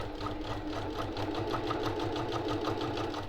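A sewing machine runs steadily, stitching the seam of a boxed zipper pouch with French seams, its rapid even needle rhythm continuous and close for the whole stretch, with no talking.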